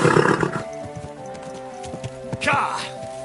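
Horse whinnying in the medieval game Kingdom Come: Deliverance II in the town of Kuttenberg, a loud neigh at the start and another at about two and a half seconds, over background voices and market chatter.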